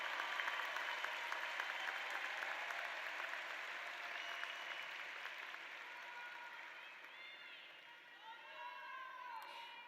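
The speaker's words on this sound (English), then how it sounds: "how about one more round of applause for our a cappella choir?" A large graduation ceremony crowd applauds an a cappella choir, a broad sustained wash of clapping that slowly fades toward the end, with faint voices emerging as it dies down.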